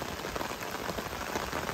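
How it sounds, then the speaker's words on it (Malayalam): Steady rain falling on surfaces during a rural Kerala monsoon outing for cast-net fishing, an even close hiss throughout with no voices. "ഞങ്ങളിപ്പോൾ വന്നപ്പോഴാണ് മഴ പെയ്യാൻ തുടങ്ങിയത്."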